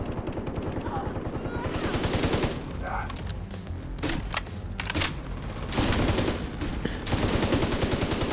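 Rapid automatic gunfire rattles in dense bursts while shooting barrels in The Division 2, loud and close, with sharp individual shots and a rising burst near the end; someone speaks briefly in between.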